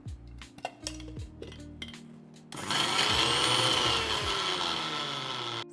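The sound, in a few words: mixer grinding sesame seeds, garlic and olive oil into paste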